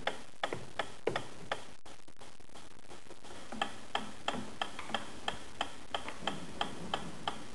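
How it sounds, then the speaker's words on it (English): A metronome ticks steadily at an even pace, close and fairly quiet, alone with no other sound. "A ticking metronome."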